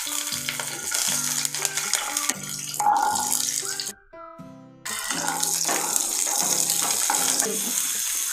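Green chilies fry in a little oil in a close, steady sizzle with stirring and scraping, broken by a short quieter gap before the sizzling resumes, with music playing alongside.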